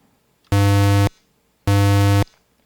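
A DOS PC speaker set to a 100 Hz tone: two identical buzzy, harsh low beeps about half a second each, separated by a short gap, loud and close against near silence.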